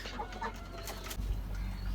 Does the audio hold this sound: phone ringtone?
no